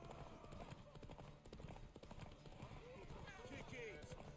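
Horse hooves clip-clopping in the video game The Witcher 3, a faint, steady trotting rhythm under a dense mix of game noise and voices talking.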